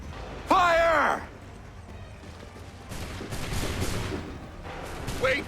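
Musket volley in Assassin's Creed 3: one loud close blast with a broad crack and ringing tail, then quieter scattered shots and rumbling fire later, with a shouted voice near the end.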